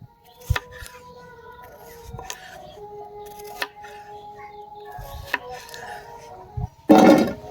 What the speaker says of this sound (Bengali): এইভাবে করে আলুগুলোকে আমরা কেটে নেব।